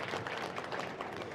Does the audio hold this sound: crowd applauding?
yes